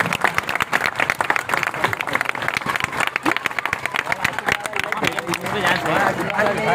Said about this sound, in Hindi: फिर जब तक हम माइक देना दे तालियां बजती रहनी चाहिए आप लोगों को।